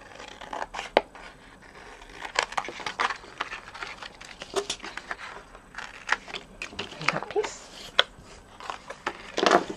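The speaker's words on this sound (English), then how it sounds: "I'll just snip that away." Scissors snip through paper while a Stampin' Up! springtime foil card box is trimmed, giving quick close crisp cuts and light rustles scattered throughout with no speech.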